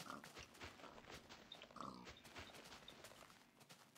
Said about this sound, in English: Kill these pigs.